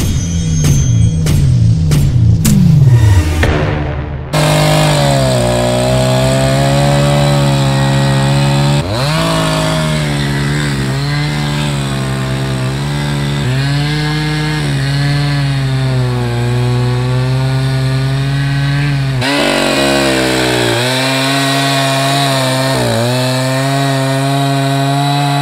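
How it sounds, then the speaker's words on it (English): An Echo 590 chainsaw is pulled through several quick starting tugs, fires up, then runs loud and close, its engine pitch dipping and rising as it bites into wood in long, sustained cuts. "I've got my Echo 590 chainsaw."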